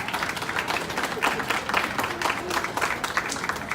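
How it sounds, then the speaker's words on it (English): An audience at a middle school National Junior Honor Society induction ceremony claps for the parents, a steady, full round of applause from a crowd that continues without a break. "you give your parents a round of applause for everything they've done to get you up here"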